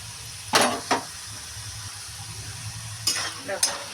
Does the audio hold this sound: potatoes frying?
yes